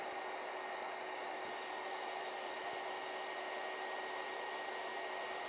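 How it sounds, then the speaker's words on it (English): A small 300 watt heat gun blows on heat shrink tubing, giving a steady, faint airy whoosh that holds evenly throughout with no talk. "This is a little 300 watt one that solder stick sells, but any heat gun will work."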